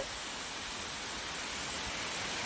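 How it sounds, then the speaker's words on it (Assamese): Heavy rain driven by strong stormy wind, a dense, uniform roar of rainfall pouring down without a break, steady and broadband, with no voices. "পূৰা ধুমুহা বতাহ দিছে আৰু বৰষুণ একদম পূৰা জোৰকৈ দিছে"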